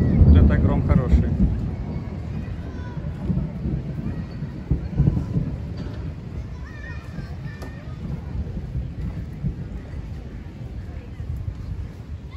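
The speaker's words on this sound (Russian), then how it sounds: "Вот это гром хороший." Low, rumbling thunder rolls through an outdoor park in Moscow, loudest at the start and then fading into a long murmur, with speech heard faintly over it.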